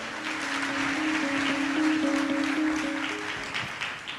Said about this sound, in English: Please join me in giving a warm round of applause to Charito